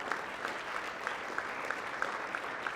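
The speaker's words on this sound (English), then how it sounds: "one more round of applause" An audience applauds steadily, a dense patter of many hands clapping with a faint rhythmic beat running through it.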